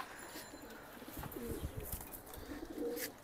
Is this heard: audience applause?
no